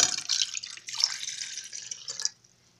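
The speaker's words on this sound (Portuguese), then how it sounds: "Vou colocar aqui a água" Water poured into a cooking pot while making homemade starch glue for crafts, a steady bright splashing stream that runs for about two seconds and then cuts off, heard alone.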